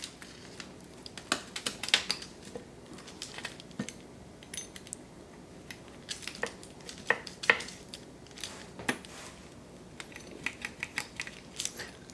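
Knife slicing through crispy keto garlic cheese sticks on a board, with a series of short, irregular cutting clicks and crunches at close range, no talking.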